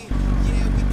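Motorcycle engine in GTA 5 starting up and idling with a steady low rumble after a brief quiet moment, close and loud, with faint clatter.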